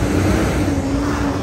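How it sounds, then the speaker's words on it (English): Truck rumbling past outdoors, a loud, steady low engine drone with a constant hum that stays close and heavy across the whole moment. "Truck's coming by and everything here. It's loud."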